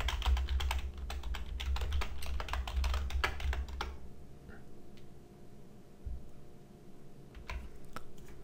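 Rapid clattering keystrokes on a computer keyboard while coding JavaScript, a dense burst of close clicks over the first few seconds, then a pause and a few scattered single key presses, with no talking.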